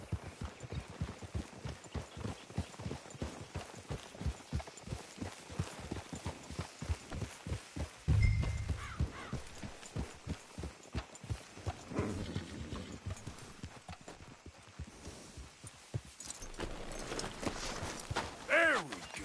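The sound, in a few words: horses walking, hoofbeats in Red Dead Redemption 2 video game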